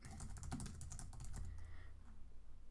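Rapid keystrokes on a computer keyboard while entering a deployment description in the Bubble.io web app, a steady close clatter of typing for a few seconds with no talk.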